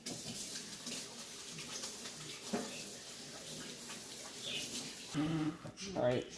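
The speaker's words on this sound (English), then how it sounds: "I'm gonna wash my hands." Water runs from a sink tap during handwashing in a home kitchen where bread dough is resting, a steady splashing stream with louder bursts near the end and a voice talking faintly underneath.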